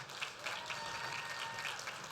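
Dense, steady applause from a crowd at a Teacher of the Year awards event, a continuous patter of many hands clapping at moderate volume.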